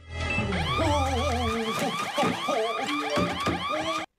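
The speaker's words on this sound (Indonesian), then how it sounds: "dan alarm pun berbunyi" A car alarm blares, cycling rapidly through wailing, whooping and chirping tones, loud and continuous for several seconds before cutting off abruptly.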